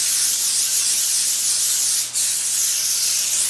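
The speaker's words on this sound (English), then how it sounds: "then I spray it" Cooking spray hisses from an aerosol can onto a cookie sheet in a kitchen, a continuous close spray with a brief break near the end.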